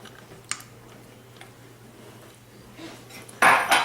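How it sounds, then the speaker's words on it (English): A utensil stirs egg yolks and heavy whipping cream in a bowl, giving soft scattered ticks and clinks of metal on the dish, then a louder burst of clatter near the end. "I'm going to give that a good stir."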